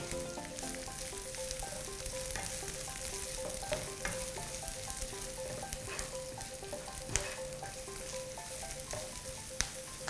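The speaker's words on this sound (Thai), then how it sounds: "พริกชี้ฟ้าเขียว ผัดรวมกันเลย" Steady sizzling of red and green chili peppers stir-frying in a hot pan, close and continuous, with occasional scrapes and knocks of a utensil against the pan.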